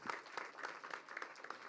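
Faint, brief applause as actor Satyaraj is welcomed onto the stage at a teaser launch event, rhythmic clapping from a distant crowd.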